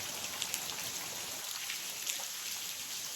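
Steady rain falls through a forest on a hike in Red River Gorge, a close, even hiss of drops on leaves and ground with a few louder drips and no talk.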